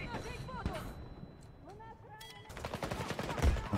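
Gunfire in the shooter Battlefield 2042, rapid bursts of shots cracking around the player near and far, mixed under excited voices talking over the action.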